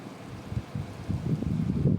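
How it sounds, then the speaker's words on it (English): Storm wind gusting hard during a squall line with torrential rain, a low rumbling roar and microphone buffeting that swells and grows louder toward the end, with no talk. "There comes a massive gust of wind."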